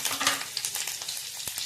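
Curry leaves dropped into hot oil for a buttermilk kadhi tempering, crackling and spitting in a loud, close, continuous sizzle with sharp pops.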